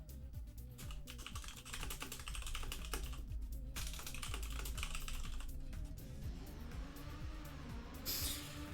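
Quick, steady typing on a computer keyboard as a password goes in, close and fairly quiet, with busy game sounds running underneath.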